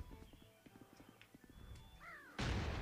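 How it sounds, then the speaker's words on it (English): A horse in a Family Guy video game clip-clops along with soft hoof thuds, then gives a short rising whinny, followed by a loud burst of noise at the end. "A horse. Yes, a sweet, nice horse."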